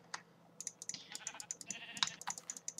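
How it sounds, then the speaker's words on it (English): Sheep in the Minecraft video game bleat repeatedly in short, clear calls, overlapping with a steady patter of keyboard and mouse clicks. "We'll spawn a bunch of sheep."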